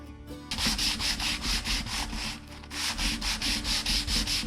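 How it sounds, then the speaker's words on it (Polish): A pine board is hand-sanded with 120 grit sandpaper to lift a wine stain from the pores of an oil finish. Brisk, rhythmic back-and-forth strokes repeat about ten times with a brief pause, close and loud, with no talk. "Wino zostało dalej w porach, więc trzeba to przeszlifować głębiej."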